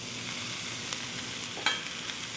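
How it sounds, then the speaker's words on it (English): Noodles go into a hot pan of japchae with sizzling beef and vegetables, bringing a steady close frying hiss, soft stirring, and one sharp clatter as they land. "now I'm going to throw in my noodles"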